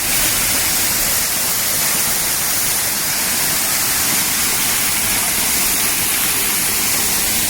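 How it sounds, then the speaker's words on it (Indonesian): Sancang 9 waterfall in the forest, a dense, loud, unbroken roar of falling water heard up close, steady throughout with no voices. "Air terjun Sancang 9."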